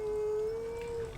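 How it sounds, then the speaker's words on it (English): Wolf howls in Skyrim, one sustained, steady tonal howl held without pause, moderately quiet and alone with no talk over it. "There's a couple of wolves there."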